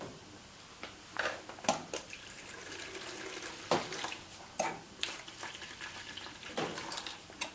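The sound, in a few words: water flowing through a valve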